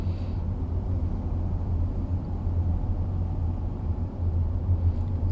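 A 2021 Nissan Almera 1.0 Turbo drives in city traffic, heard from inside as a steady low engine and road rumble with even loudness throughout and no talk.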